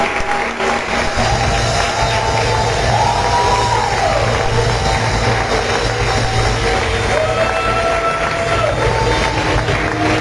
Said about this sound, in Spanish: Así que con un fuerte aplauso,